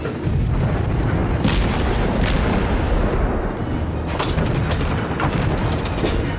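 Naval guns of a warship firing at an Italian-based enemy destroyer in a warship video game: a dense, rumbling battle din with a few heavy booms standing out, loud and continuous throughout.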